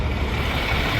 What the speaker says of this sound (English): Pardon the truck.